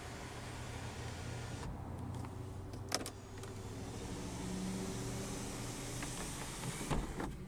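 The power sunroof of a 2016 Honda Accord EX-L sedan runs with a soft, steady electric motor whir inside the cabin, with a couple of small clicks and bumps along the way.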